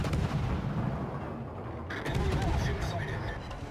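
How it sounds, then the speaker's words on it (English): Warship naval gunfire in the World of Warships video game, a dense, booming low rumble of cannon shots running throughout, with a fresh blast near the middle, mixed with game sound. "let's take some parting shots, torpedoes, see if we can get some damage at least"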